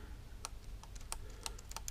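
Keys clack on an FL Studio-branded computer keyboard from EditorsKeys, several quick sharp taps in an irregular rhythm over a low room hum, close and fairly quiet.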